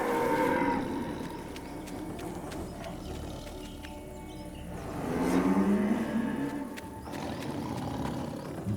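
Buffalo mooing in a Jungle Book cartoon, a long low bellowing call that swells midway and again near the end over a dense, loud background.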